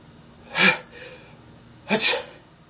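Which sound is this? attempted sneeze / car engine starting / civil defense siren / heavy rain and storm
attempted sneeze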